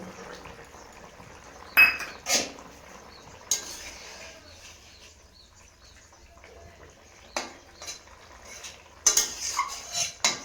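Utensils clink and scrape against a cooking pot as ground chili paste goes into a simmering home-style curry: a few sharp clatters over quiet kitchen background, with a cluster of knocks near the end.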